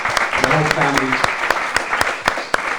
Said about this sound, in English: Give them a big round of applause, you guys.